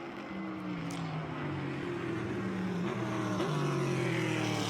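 Vintage Porsche race cars and a 1968 Corvette pass on a racetrack, engine notes rising and falling as several cars go by in close succession, moderately distant and steady.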